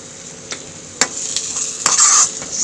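Egg rice ingredients fry in a pan with salt while being stirred, a steady close sizzle broken by sharp spatula strikes against the pan, with no voices.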